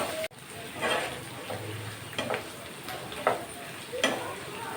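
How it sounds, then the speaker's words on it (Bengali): Half a spoon of ginger paste, a spoon of garlic paste and salt fry in a pan for an egg curry, a soft, constant sizzle broken by several light scrapes and clicks of stirring. "এখন আমি মশলাটাকে ভালো মতো ভেজে নেব।"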